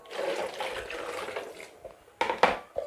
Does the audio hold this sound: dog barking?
no